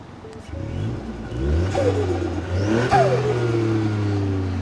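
A Ford 1.5 litre three-cylinder engine with a Milltek exhaust revs up in two or three rising blips close by, the note climbing sharply and settling back to a throaty idle between pulls.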